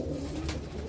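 A domestic pigeon coos softly in a home loft, a low steady murmur carried over a faint background hum with no talking.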